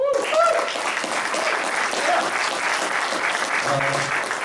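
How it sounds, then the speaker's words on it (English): Conference audience at a sport management event applauding a newly introduced speaker, steady dense clapping filling the room for several seconds, with faint voices mixed in. "I don't know if I deserve any claps yet"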